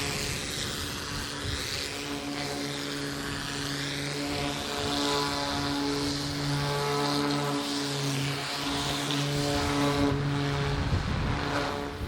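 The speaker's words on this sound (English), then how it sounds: "Once out of the water, it was over to Dave to give it a good jet wash." Steady loud mechanical drone with a strong tonal hum, continuous throughout, from a pressure washer running close by, jet-washing the hull of a narrowboat out of the water.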